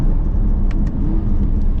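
A 2024 Chevrolet Corvette E-Ray braking hard and downshifting, heard from inside as a loud, steady road and engine rumble with a faint whir and no sharp shift bark.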